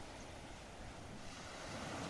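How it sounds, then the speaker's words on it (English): Ocean waves wash in a soft, continuous surf roar, faint and steady with a gentle swell toward the end and no voices. "You can carry on listening to the waves."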